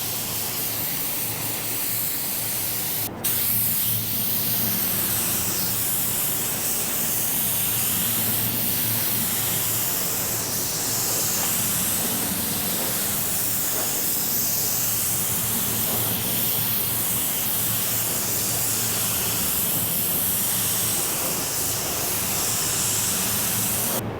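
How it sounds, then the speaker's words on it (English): Hobbyist spray gun laying down a first coat of paint, a steady continuous hiss running for the whole stretch with one brief click near the start and no talk. "I'm making sure that my spray gun is spraying properly"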